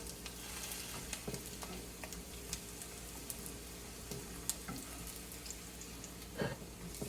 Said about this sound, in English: after these are nice and fried and they get soft in the middle and crispy on the outside